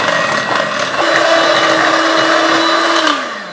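An electric mixer beats butter and sugar for cookie dough, its motor whining loud and steady at close range, then winding down at the end.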